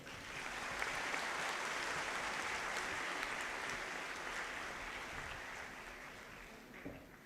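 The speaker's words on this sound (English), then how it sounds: "You may now show your appreciation for all gold medal winners by brief clapping" At a university convocation conferring degrees and medals, the seated audience gives a brief, steady round of clapping for the gold medal winners, heard as a soft, even wash of applause across the hall.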